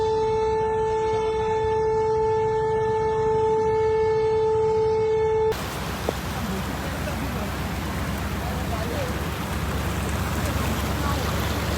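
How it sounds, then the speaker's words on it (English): A loud, steady evacuation warning siren wails by the Marikina River during heavy rain and rising floodwater, holding a constant tone for several seconds before giving way abruptly to a wide rushing roar of water or wind. "a siren was sounded in the morning to warn thousands of residents to brace for evacuation"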